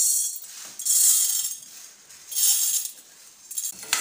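Toor dal lentils stirred and roasting in a dry pan without oil, giving bright rattling, clinking scrapes in three or four short bursts, close and clear with no talking.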